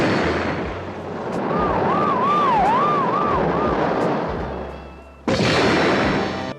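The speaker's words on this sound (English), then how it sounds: "The sirens are going off" A wailing siren rises and falls in smooth repeated sweeps over a loud, rumbling roar, then cuts off into a sudden harsh burst of noise.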